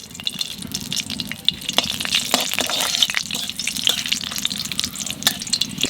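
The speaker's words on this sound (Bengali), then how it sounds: "তেলের পর দিয়ে দেবো দুটো তেজপাতা আর দেবা লং দারচিনি এলাচ" Bay leaves, cloves, cinnamon and cardamom frying in hot oil for a Bengali potol chingri curry, giving a steady close crackling sizzle with scattered sharp pops throughout, no voices.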